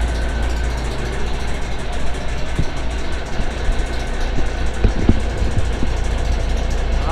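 A vehicle engine idles steadily after running for about an hour at operating temperature, giving a continuous low rumble with a constant, even drone throughout and no voices.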